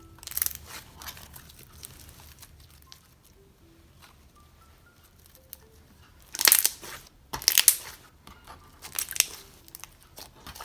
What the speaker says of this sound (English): The base is really good for poke and click and crunch.